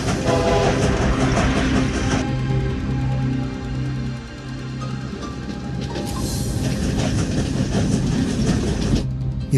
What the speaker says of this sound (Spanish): El ferrocarril Memphis Express, con más de 400 pasajeros, se acercaba velozmente y el puente continuaba elevado.